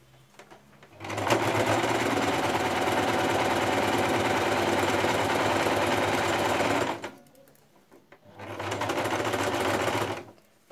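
Sewing machine stitching elastic onto fabric, a loud, close, rapid mechanical rattle running for about six seconds, stopping briefly and then starting again for a shorter burst.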